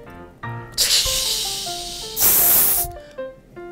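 Freshly opened carbonated soft drink fizzing and hissing in loud bursts, with a tonal ringing squeak running through it; a sharp spray surge comes near the middle before the fizz settles back.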